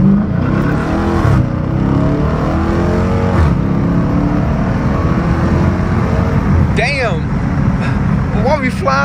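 A Dodge Challenger R/T in sport mode with traction control off pulls hard, its engine a loud continuous roar heard from inside the car, with a passing vehicle and voices partly over it.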